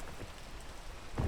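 Rain falling in a video game, a steady soft patter across the whole short stretch, with a brief louder thump near the end and no voices.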